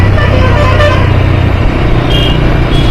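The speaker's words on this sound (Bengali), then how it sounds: "বাসটা এমন করে হর্ন মারছে আর মারছে" Loud traffic with a bus horn honking repeatedly close behind over a steady engine rumble, continuous throughout.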